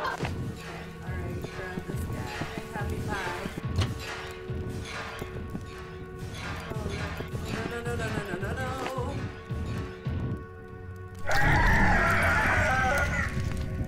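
An evil headless chicken in the Bulb Boy video game clucks and squawks in rapid, irregular bursts over game music and noise, growing louder and harsher near the end.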